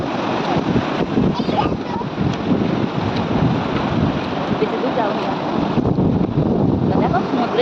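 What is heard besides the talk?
sea waves on the beach at Mandarmani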